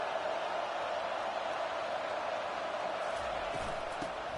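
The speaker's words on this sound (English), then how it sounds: "This crowd is trying to inspire this defense to make a big red zone stop." Stadium crowd noise in a college football video game, Florida game, a steady broad roar at moderate volume with no distinct cheers, continuous throughout.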